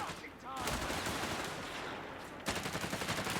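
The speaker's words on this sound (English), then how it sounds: "Nice big burst there from the machine gun." Machine gun burst in Company of Heroes 3, a dense loud rattle of rapid gunfire filling the short clip with a sharper volley near the end, no talk over it.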